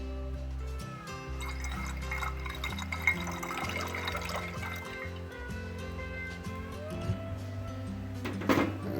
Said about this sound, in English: I'm going to go ahead and pour this in.